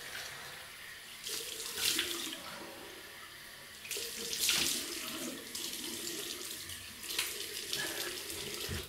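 A double-edge safety razor, a Fine Marvel with a Flagfish blade, rinsed under a running tap, with a steady trickle of water and three louder splashing surges as the razor passes through the stream, close and alone.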